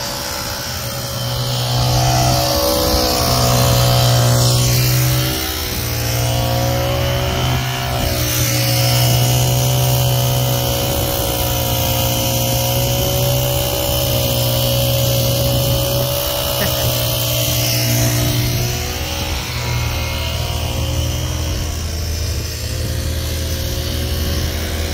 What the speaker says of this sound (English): they're starting to vibrate this concrete down a little bit